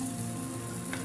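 Garlic frying in hot oil in a kadhai, a dense continuous sizzle holding steady and close throughout the short moment.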